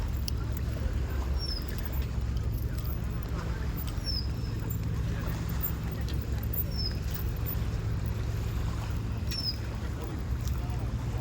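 Steady low engine rumble of an island-hopping tourist boat in El Nido, Palawan, continuous and loud, with faint chirps high above it.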